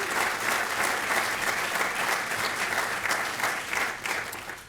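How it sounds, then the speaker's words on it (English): Steady applause from an audience at a Memorial Day program, dense clapping sustained evenly throughout without a break. "can we please give a round of applause for Dr. Denise Jorgens and Deb Jasinski"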